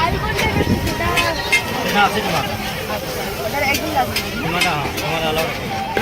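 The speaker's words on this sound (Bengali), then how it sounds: "কাকা রোল ভাজছে" Rolls frying on a hot griddle at a busy street food stall, a steady sizzle and stirring scrape under constant chatter from a crowd and passing traffic.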